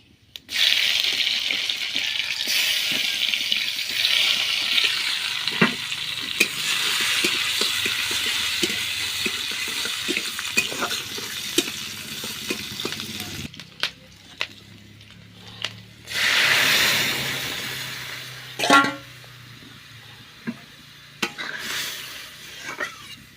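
Dal being tempered in a pan in a home kitchen: a bright, steady sizzle with stirring and scraping for the first half, then quieter clatter of pots and a few brief louder bursts.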